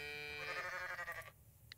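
A goat bleats in the Coral Island farming video game, a short wavering nasal cry that fills most of the clip before cutting off, followed by a quick faint blip.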